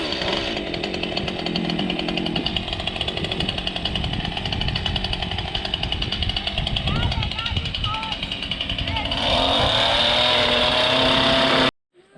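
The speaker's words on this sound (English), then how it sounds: "I'm going to take the board, make a line there, and then we're going to chainsaw it out" A chainsaw roars steadily and loudly as it cuts a door opening through a wooden board on an off-grid cabin, the engine pitch rising near the end before cutting off abruptly, with a voice speaking over it.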